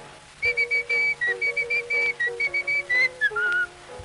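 Bright, clear human whistling carries a lively tune as part of a song performance, moving in quick separated notes and a few sliding pitches, heard up close and alone.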